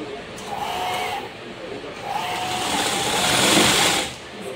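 A sewing machine stitching the border of a baby quilt, whirring in two bursts with a short pause between them, the second run longer and louder, close by with a voice speaking over it.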